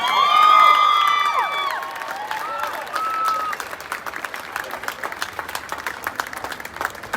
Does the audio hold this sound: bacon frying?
no